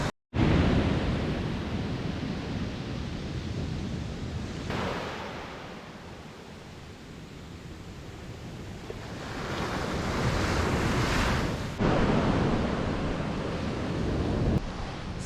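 Ocean surf rolls onto a beach below cliffs on Portugal's Silver Coast, a steady close wash of breaking waves that swells and recedes over the whole stretch, with wind buffeting the microphone and no voices.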